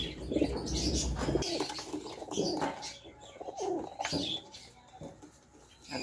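Racing pigeons arriving back at the loft after a race from Casiguran, Sorsogon, with soft cooing and chirps near at hand, some wing flutters, and a low rumble in the first second.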